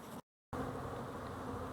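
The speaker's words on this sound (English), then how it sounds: "Bees." Honey bees buzz around wooden bee sheds, a steady droning hum broken by a short gap of silence, then continuing.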